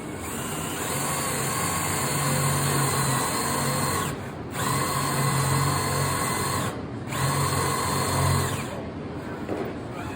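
A power drill boring into wood whines steadily in three long runs, pausing briefly between each, with a grinding, boring tone close by.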